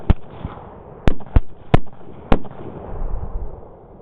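Rifle gunshots ring out during a guided thermal hog hunt at night, five or six sharp loud cracks spaced irregularly over a few seconds with faint rustling between them.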